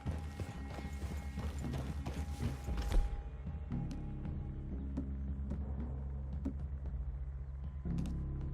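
Horse hooves clip-clop steadily on the ground in Red Dead 2, a regular walking rhythm of close, distinct hoofbeats over a low ambient hum, with a faint neigh and no talk.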